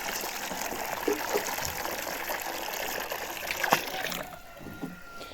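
Water streams and splashes steadily from a watering can, a close continuous trickling gush that eases off near the end, with a few faint knocks.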